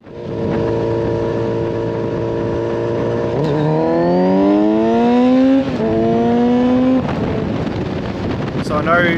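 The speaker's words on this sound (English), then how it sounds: "the Leo Vince headers, they're actually not quite as loud as I was expecting. They just have a really nice note to them now," A Kawasaki Z900RS motorcycle fitted with Leo Vince exhaust headers idles with a deep steady rumble, then revs up in two rising pulls that fall back, loud and close with some wind noise.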